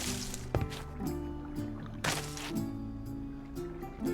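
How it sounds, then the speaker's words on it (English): Water trickles and splashes inside an underground mine in a video game. It sounds moderately close, with a few louder splashy bursts over a steady drone of low tones and no talking. "I hear water"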